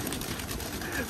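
A large flock of pigeons at a village loft, thousands of birds, coos in a dense continuous murmur, with people's voices mixed into the noise.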